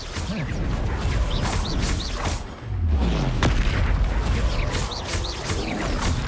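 A Confringo explosion spell goes off in Hogwarts Legacy, a booming blast with a low sweeping rumble amid ongoing crashes and whooshes of combat, all loud and close.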